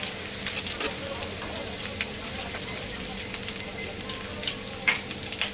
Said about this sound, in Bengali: একটু ভাজবো এটাকে।